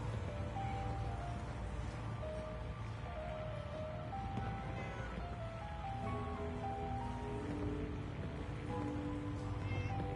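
A cat meows repeatedly within a PS4 video game, its soft calls sitting over a dense, steady bed of ambient game sound.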